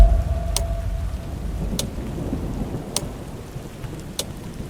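Steady rain falls with a low, rolling thunder rumble, all heard alone, with no voices and a few faint, sharp ticks recurring throughout.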